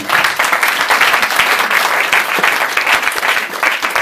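A church congregation bursts into loud, sustained applause, dense rhythmic clapping filling the room steadily from start to finish with a few faint voices mixed in.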